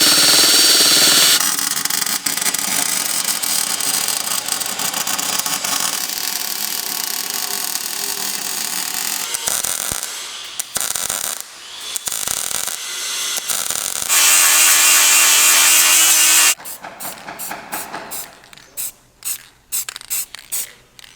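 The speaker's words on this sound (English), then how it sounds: "we're removing some paint so that way we have good welding contact points" A loud power tool grinds paint off metal ahead of welding, running steadily for long stretches and then stopping and starting in short bursts toward the end.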